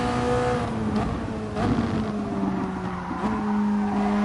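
Tyres on a Toyota race car in a racing video game squeal and scrub through corners under a loud, steady engine drone, with the pitch wavering as grip comes and goes.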